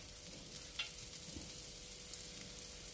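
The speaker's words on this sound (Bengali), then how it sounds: "দুটো একটা করে আপনারা এভাবে ভেজে নেবেন, একটু সেঁকে নেবেন জাস্ট" Small snack pieces dry-roasting in an oil-free pan make a soft, even sizzle with faint stirring scrapes throughout, close and quiet, no voices.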